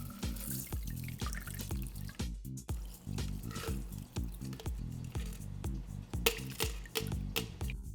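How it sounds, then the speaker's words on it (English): A blue Aviation cocktail is poured from a shaker through a hawthorn strainer and a fine strainer, giving a close, continuous liquid trickle with rapid clinks and splashes of ice and no talk. "just use your hawthorn strainer to hold the ice back and pour through the fine strainer"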